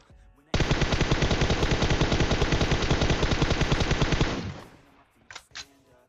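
A long, sustained burst of rapid automatic gunfire in PUBG Mobile, loud and close, cuts off abruptly, followed by a few scattered softer shots.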